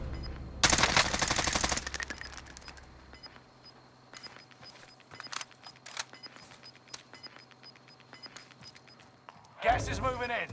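Bursts of automatic gunfire in Call of Duty: Warzone, a dense volley at first followed by scattered shots over a steady game background, with radio-style voice lines heard.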